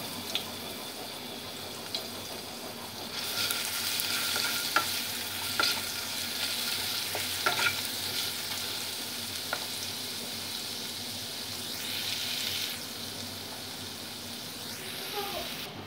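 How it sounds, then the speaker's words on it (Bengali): Crushed garlic frying in oil with black cumin and dried chili for a ripe mango chutney, a steady close sizzle with scattered spoon stirs and scrapes, no voices. "কালো জিরে আর শুকনো লঙ্কাটাকে ভালো করে ভেজে নিয়ে দিয়ে দেব থেঁতো করা রসুনটা।"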